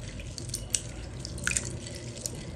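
Soybeans and other ingredients are washed by hand in water, with soft close splashing, squishing and scattered drips as hands rub and squeeze them.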